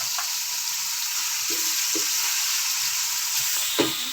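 Masala with salt, turmeric, red chilli powder, dried coriander and tomatoes frying in a pan for a potato and capsicum curry, a steady loud hiss of sizzling broken by a few soft stirring scrapes, close and without talk.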